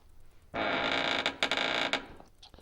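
A door in the Resident Evil Code Veronica video game creaks open with a loud, sustained grinding groan lasting about one and a half seconds, broken by a few sharp catches near the end.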